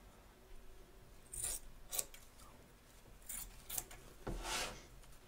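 Scissors trim excess quilt batting around an embroidered stitch line on a hooped sewing-machine design, a series of quiet crisp snips spaced irregularly, close but faint, with no voices.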